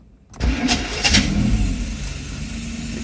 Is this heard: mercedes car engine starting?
yes